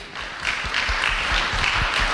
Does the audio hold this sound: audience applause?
yes